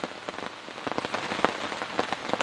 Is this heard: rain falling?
yes